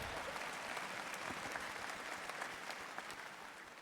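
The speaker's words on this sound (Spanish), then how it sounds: "Sí, pueden aplaudir." An audience applauds during a sermon on the Reformation, a dense, steady wash of many hands clapping at a distance, sustained and fairly faint throughout.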